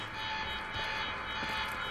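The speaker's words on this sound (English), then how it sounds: "Alarm's not gonna make my life any easier." An alarm in the video game Quantum Break rings on as a steady electronic tone, held at an even level for the whole stretch with no voices over it.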